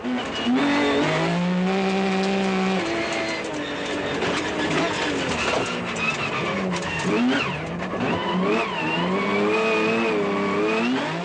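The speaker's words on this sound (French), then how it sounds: "Pendant 5 tours, Marc va coller au pare-choc de l'étonnante Seat Cordoba sans jamais pouvoir la déborder." A Seat Cordoba race car in a 1996 Défi Andros off-road sprint at Château de Lastours roars loudly and steadily, its engine pitch climbing and dropping through shifts as another car stays close behind.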